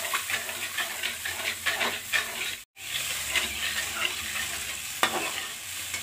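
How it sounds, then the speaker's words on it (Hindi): A spoon stirs sugar syrup in a pan over a high flame, with repeated close scraping strokes over a soft bubbling sizzle and a brief silent break partway through. "शीरा बनाते टाइम इसमें मुस्तकिल हम चम्मच चलाते रहेंगे"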